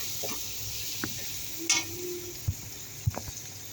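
Cabbage fries in a pan with a soft, steady sizzle under the quiet room, broken by a few sharp clicks and taps of a utensil against the pan.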